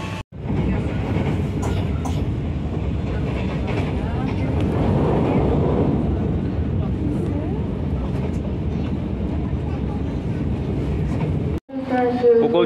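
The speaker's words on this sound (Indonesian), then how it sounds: "kereta api Kuto Jaya Utara menggunakan rangkaian stainless steel" Kutojaya Utara passenger train with stainless steel carriages rolling past, a loud steady rumble of wheels and carriages for most of the stretch, cutting off abruptly near the end, with voices mixed in.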